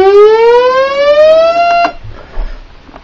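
A siren tone synthesized in Audacity sweeps steadily upward in pitch for almost two seconds, bright and harmonic, then cuts off, leaving faint background noise.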